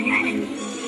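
A human voice in a stage skit imitates a frog's croak with one short, loud, throaty croak held close up.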